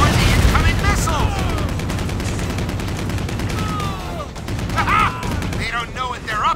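Gunfire aimed at an incoming missile in the Stranglehold video game, steady and dense throughout with a booming low end, while voices and radio chatter talk over it and pitch-sliding whooshes sweep past.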